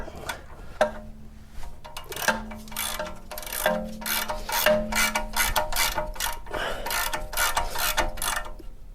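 A 22mm spanner works a stiff track rod end nut on the offside of a 2013 VW T5, giving a steady run of close, rapid metallic ratcheting clicks with a few heavier knocks.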